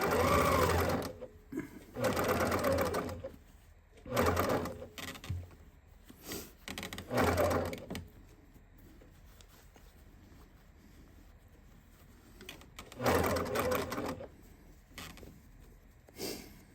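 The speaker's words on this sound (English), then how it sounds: "start right there in a center and start stitching" Sewing machine stitching a pillowcase, running in several loud bursts of a few seconds each with quiet pauses between as the fabric is guided around corners.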